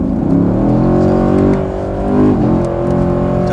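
A Chevrolet Camaro SS with a 6.2-litre 453 hp V8 under kickdown acceleration on a race circuit, a loud, continuous engine drone with steady harmonics that dips briefly and rises again, heard close from inside the car.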